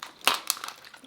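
A lobster or crab shell cracked open during a messy mukbang meal of lobster, crab and broccoli with carbonara sauce: two sharp, close crunches about a quarter-second apart, followed by brief softer crackles.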